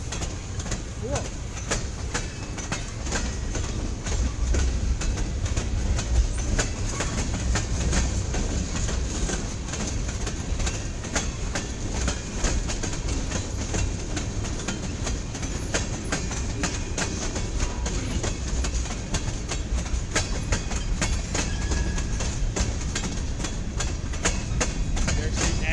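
A CSX local freight train with oil tank cars rolls steadily past at close range, a continuous rumble and clickety-clack of wheels lasting throughout, with people talking occasionally over it.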